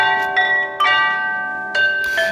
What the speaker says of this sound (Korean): 이런 이런 종소리가 어찌 불협화음인지 궁금합니다.